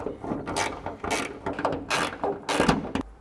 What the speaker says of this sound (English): Once the wire is free of the trunk lid, we can start undoing these bolts.